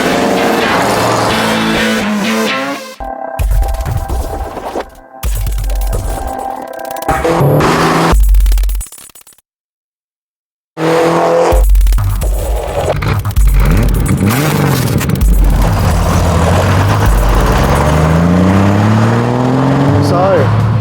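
A 1972 Holden Torana GTR XU-1, an Australian muscle car, revs loudly in repeated surges with a brief silent break, its engine note rising and falling under a music bed and occasional talk.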